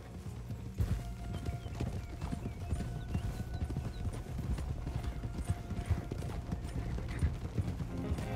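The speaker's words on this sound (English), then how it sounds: "Hey, control that horse." Horse hooves clip-clop steadily in Red Dead Redemption 2, a dense run of close, rhythmic footfalls over a low rumbling game soundscape, with a brief whinny mixed in.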